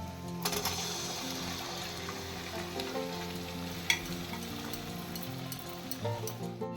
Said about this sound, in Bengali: এখন আমি আলু আর মটরটা দিয়ে দিচ্ছি